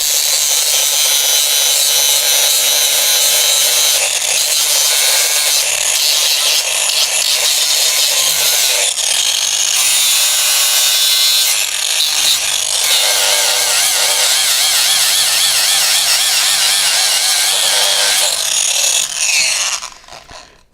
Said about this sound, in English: So I'm going to use this to deburr and break the edge.